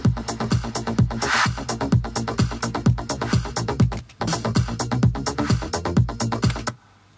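A loud drum-machine groove built with Sonic Charge Microtonic, punchy kicks and clicky percussive hits in a steady fast pattern with a brief dropout midway, then cutting off abruptly into near silence.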